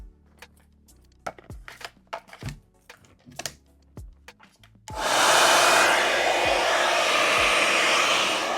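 A Conair 3-in-1 blowout kit with its oval brush attachment starts up halfway through after a run of light tapping and clicking, then blows hot air in a loud, steady, close rush to the end.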